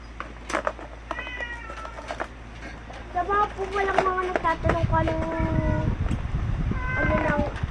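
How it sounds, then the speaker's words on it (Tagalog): A cat meows repeatedly, close and insistent, with several drawn-out cries while a person talks over the sounds. "Kasi pusa namin yun. Maingay talaga yun."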